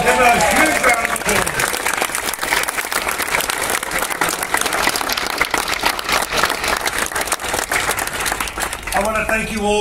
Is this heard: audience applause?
yes